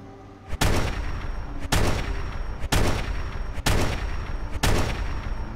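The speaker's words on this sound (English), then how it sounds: "I'm gonna shoot it!" Five loud, evenly spaced gunshots in Fallout 4's Far Harbor expansion, each a sharp booming crack with a short decaying tail, roughly one per second.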